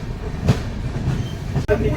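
The Sealdah–Puri Duronto Express rolls along after leaving Kharagpur, a loud steady rumble heard from inside a sleeper coach, with a sharp jolt near the end and faint voices beneath.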